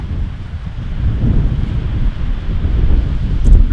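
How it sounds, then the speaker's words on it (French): Wind buffets a microphone on a wide beach, a loud, close, continuous rushing roar with low gusty thumps that swell and ease throughout. "Le vent aussi, ça fait partie des choses qui sont extrêmement chiantes pour un vidéaste"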